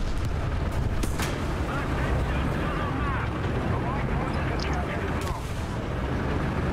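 Tank cannon fire from a teammate in War Thunder, shooting at a KW 1 C 756 (r) tank with a German gun, heard as booming blasts amid continuous dense battle noise and engine rumble, with voices talking over it.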